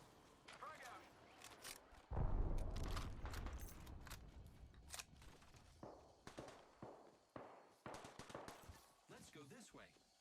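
Frag grenade thrown and exploding in a video game shooter, a sudden loud booming blast with rumbling decay, followed by scattered gunfire cracks and clicks.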